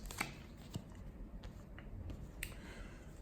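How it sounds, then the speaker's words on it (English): Tarot cards are shuffled by hand at close range. The soft papery riffles and taps come in quiet bursts against faint background hiss, and no one speaks. "just shuffling the cards here"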